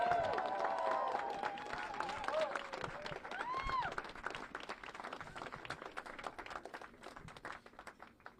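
A crowd applauds the campaign team at a speech by San Francisco D.A. Chesa Boudin after his recall, sustained clapping with scattered cheers and shouts that gradually thins out.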